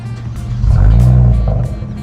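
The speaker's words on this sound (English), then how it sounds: "it literally pops every time at startup" A Kia Stinger with catless downpipes fires up, its exhaust letting out a deep, loud rumble that swells and settles over a couple of seconds, with rough crackling pops on top and no one speaking.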